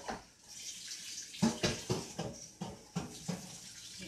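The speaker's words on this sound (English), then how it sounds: "you got to strain it, wash it, and I'm going to strain it one more time again" Homemade mango, carrot and pineapple juice being strained, with a wet pouring, splashing trickle that steadies into a series of soft, evenly spaced sloshing bursts, close by and moderate in level.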